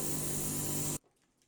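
A J-PEN S020 0.2 caliber precision airbrush sprays paint in a steady, close hiss that cuts off abruptly after about a second, leaving near silence.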